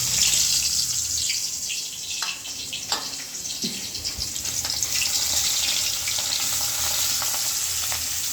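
Katla fish tail pieces coated in turmeric, chili powder and salt fry in hot oil on a stove, giving a loud, constant sizzle with a few brief clatters near the start.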